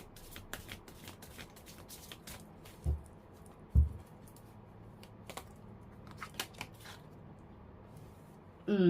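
Tarot cards being shuffled by hand, a soft run of quick riffling clicks and patter with a couple of duller thumps, close and fairly quiet with no talking.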